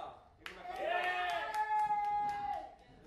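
Applause from a small crowd at a karaoke night, clapping loudly and continuously with a singing voice and sustained tones over it.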